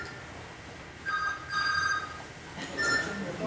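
A cell phone rings during an evening talk at a town gathering, sounding as short bursts of electronic tones that come and go against a quiet room background.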